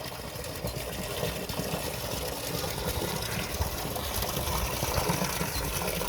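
Orange River floodwater running in and filling a channel at peak flow, a steady faint rushing wash with slight swells, with no voices.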